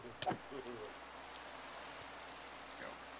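Rain falls in the video game Minecraft as a faint, steady hiss that runs throughout, with a brief louder sound near the start.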